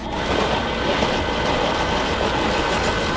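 A brass cleaning tumbler loaded with rifle cartridge cases runs with a steady, loud, continuous rumble and rattle, close by and with no talking.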